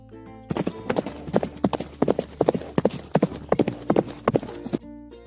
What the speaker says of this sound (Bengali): ঘোড়া খুব দ্রুত দৌড়ায়।